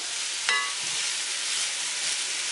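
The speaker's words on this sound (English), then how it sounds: "we're going to saute this about 3 to 4 minutes" Red peppers and mushrooms saute in olive oil with a steady, close sizzling hiss, broken early by a single brief clink of a utensil against the pan.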